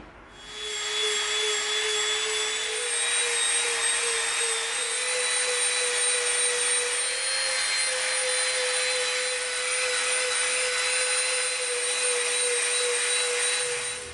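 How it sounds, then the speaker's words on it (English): A Dremel rotary tool grinds EVA foam around a corner, a steady high-pitched whine running continuously and loudly at close range with no talking. "we're only going to Dremel around the corner to reach here"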